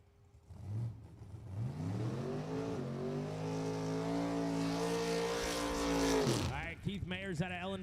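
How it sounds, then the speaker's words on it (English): A super gas drag racing car revs and accelerates hard in the right lane at a drag strip, a loud sustained engine roar rising in pitch, with a commentator talking over it. "Keith Mayers, super gas car in the right lane"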